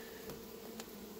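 Honey bees buzzing in a low, steady drone from an opened backyard hive, a continuous close hum with no talking.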